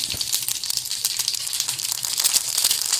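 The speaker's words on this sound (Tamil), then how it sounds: "கடுகு வெடிக்கிறது." Rapid crackling and popping of mustard seeds spluttering in hot oil, dense and continuous, close by with no talking.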